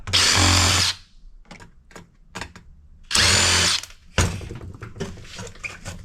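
A power drill whirs loudly in two bursts of about a second each, backing screws out of the metal casing of a POS machine, with clinks and rattles of loosened parts in between.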